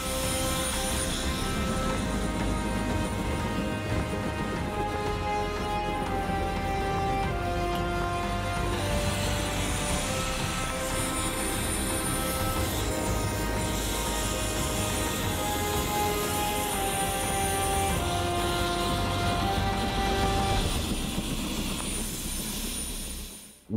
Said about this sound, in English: When we went on the hunt with the helicopter